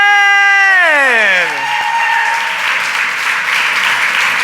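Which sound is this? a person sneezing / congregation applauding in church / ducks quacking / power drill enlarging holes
congregation applauding in church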